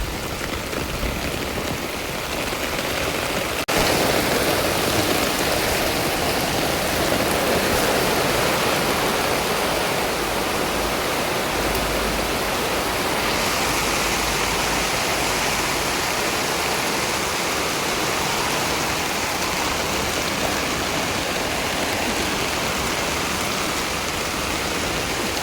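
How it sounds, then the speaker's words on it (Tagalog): Heavy rain pours down steadily for the whole stretch, a dense, loud, continuous hiss of water striking surfaces close by, with no voices. "Ulan!"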